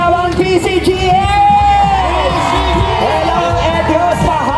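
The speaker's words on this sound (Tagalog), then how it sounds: "Isa malakas sa hiyaw ang PCGA." A loud parade crowd of government employees and community groups cheers, whoops and yells with sustained, dense voices, while an announcer's amplified voice and music-like tones run over the noise.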